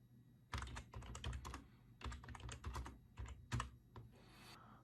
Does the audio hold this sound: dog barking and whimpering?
no